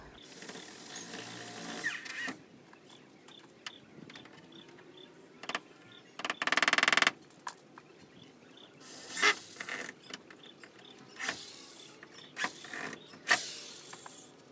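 Self-tapping screws being driven into a car door to hold it raised, with repeated bursts of whirring screwdriver and creaking metal between quieter pauses, close by.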